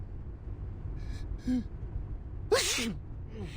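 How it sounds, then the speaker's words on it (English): A single sharp sneeze from the video game Reverse: 1999 bursts out over a quiet low background, preceded by a couple of faint breathy sounds. "That's your 9th sneeze since we got here."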